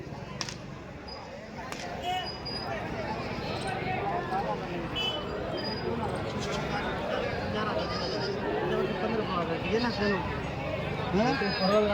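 Several Kathiawari goats bleat at intervals at a goat market in Chalisgaon, over a busy crowd of people talking nearby, with scattered knocks and rustling in the background.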